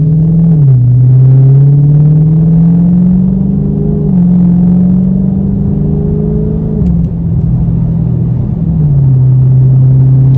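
A Dodge Charger Scat Pack V8 rumbles deep and steady from inside the car while driving, with its pitch rising and dipping through several smooth shifts and throttle changes.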